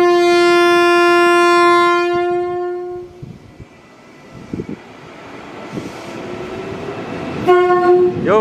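A KRL Commuter Line electric train in Jakarta sounds a loud, sustained horn blast near the platform, then rolls off with low rumbling and clatter, and a second short horn sounds at the end.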